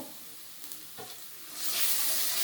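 Onions, garlic paste and bay leaves fry in hot oil in a pan for a chicken dish, a soft stirring scrape giving way to a louder, steady sizzle in the second half.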